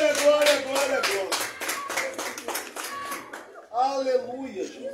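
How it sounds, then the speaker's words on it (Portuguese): Congregation clapping in rhythm for Jesus during an evangelical church service, a steady run of claps for about three and a half seconds, then a voice takes over with singing or speech. "As palmas é para Jesus"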